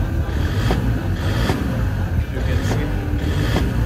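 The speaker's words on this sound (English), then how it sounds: "see how smooth the engine is working, which is cool" Toyota Land Cruiser Prado J90 with the 1KD diesel engine idling after injector seat replacement, a steady close low rumble with even rhythmic pulses, and a brief spoken word over it.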